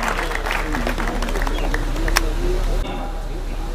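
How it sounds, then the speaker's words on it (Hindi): A crowd claps loudly at a horticulture event launch in Srinagar, continuous applause under a steady hum, mixed with voices throughout. "और जोरदार तालियां"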